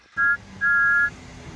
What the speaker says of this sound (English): the guard's whistle blew and you're going to be late